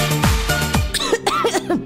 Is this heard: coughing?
yes